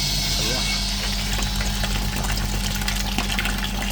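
Water splashing and spraying from a diesel particulate filter being pressure-cleaned off a high-mileage Citroën Relay recovery truck, a steady rushing wash over a low pump or engine hum.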